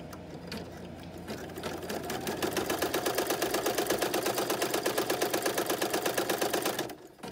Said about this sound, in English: I'm gonna run the next step, which is a tack down of the zipper lines,